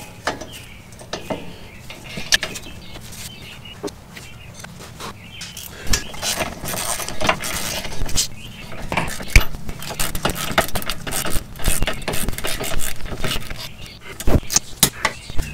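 Brake caliper bolts are torqued on a 1979-2004 Mustang fitted with a Brembo big brake setup, producing scattered metallic clinks and tool rattles that grow busier toward the end, with a little speech in the background.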